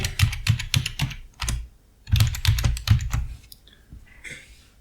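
Rapid keystrokes on a computer keyboard as a password is entered, close and crisp, in two quick bursts of clicking separated by a short pause, with a faint trailing rustle at the end.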